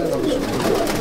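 Close, continuous cooing comes from a group of Abluk Madrasi pigeons in a loft, the throaty calls overlapping steadily with a faint voice underneath.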